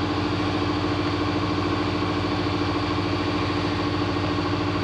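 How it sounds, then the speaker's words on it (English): An air compressor with its enclosure box open runs loud and steady, a dense continuous mechanical drone with a rapid pulsing thump throughout, no voices. "Probably should have turned my compressor off."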